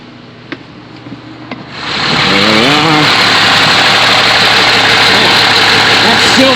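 RV engine idling with the dash air-conditioning compressor clutch engaged, a steady loud mechanical drone and belt hum starting after a couple of soft knocks and continuing unbroken.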